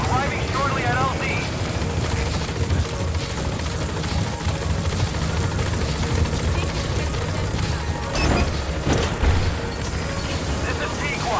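In Metal Gear Solid V, the Pequod helicopter approaches a landing zone with a loud, continuous rotor roar and engine rumble filling the scene, while radio voices speak over it.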